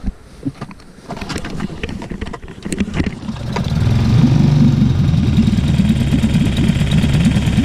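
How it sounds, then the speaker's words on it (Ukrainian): An outboard motor on a fishing boat sputters through a few uneven starts, then settles into a steady, loud running drone close by. "заводимо наш моторчик в таку кашу"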